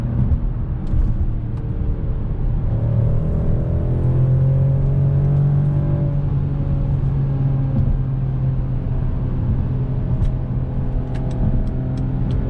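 A 2021 Mercedes-Benz E450 All-Terrain wagon accelerates on the road, heard from inside the cabin as a loud, steady low engine rumble whose pitch climbs through the gears, with tire and road noise underneath.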